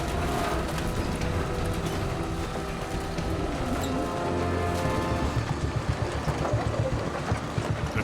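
Heavy diesel engine of a tow truck drones steadily and loudly, pulling a rolled-over semi tractor back up a steep incline onto the highway, with rumbling mechanical noise throughout and no talking.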